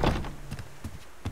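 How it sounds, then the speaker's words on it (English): A door thudding shut in the survival game Subsistence, a sharp thunk followed by a few lighter knocks and taps within about a second. "I'm going to shut this door also."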